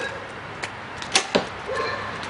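A quick, quiet thwack of a 2012 Bowtech Insanity CPX compound bow releasing an arrow with low vibration, followed by a brief soft thud, with light background hiss and no talking.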